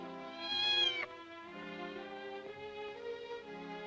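A black cat meows, one long rising-falling cry followed by softer drawn-out mewing, close and fairly clear with no talk over it.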